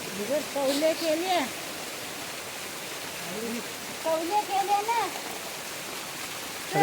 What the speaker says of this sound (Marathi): लय मोठा पाऊस आला